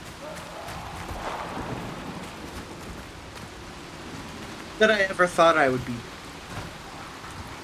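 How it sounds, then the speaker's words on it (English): Steady rain hissing throughout in the video game Dying Light: The Beast, a soft constant wash beneath someone talking, with no distinct thunder standing out. "These rain effects look interesting."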